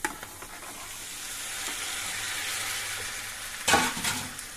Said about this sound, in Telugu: ఇది కూడా వేసి కలుపుదాం. ఆయిల్ కిందకి పైకి చక్కగా కలుపుకోవాలి.